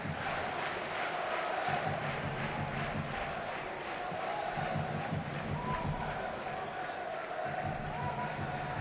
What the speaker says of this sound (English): The crowd giving it their all.